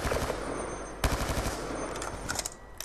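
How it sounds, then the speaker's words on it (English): Rapid automatic gunfire from Black Ops 2 rattles in dense bursts, with a sharp louder shot near the one-second mark and continuous close firing throughout. "Terrible shooting right there."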